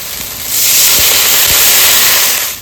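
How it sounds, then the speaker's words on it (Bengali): Water poured into hot fried spice paste of oil, Kashmiri chili and chopped tomato for a katla fish curry erupts into a loud, close, sustained sizzling hiss, with no talk. "মশলা কষানো হয়ে গেছে তেল ছেড়ে দিয়েছে এবার জল দিয়ে দেবো"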